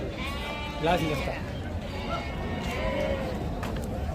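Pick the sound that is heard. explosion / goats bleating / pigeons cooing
goats bleating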